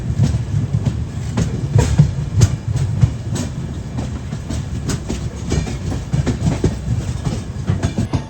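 Jayanti Janata Express running on Central Railway track, heard from inside an AC 2 tier coach: a steady low rumble with rhythmic clickety-clack wheel beats, continuous and fairly loud, no voices.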